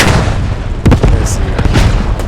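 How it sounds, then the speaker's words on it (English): German artillery fires in the WWII shooter Post Scriptum, with several heavy booms and blasts in quick succession over a loud battlefield din, close and forceful, with a voice talking over the noise. "the German artillery doing its job"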